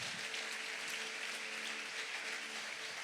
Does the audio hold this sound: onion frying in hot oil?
no